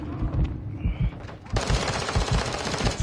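Automatic weapon fire in a video game battle, with the enemy inside the perimeter, hammering in rapid bursts at close range through the second half over a steady backdrop of combat noise.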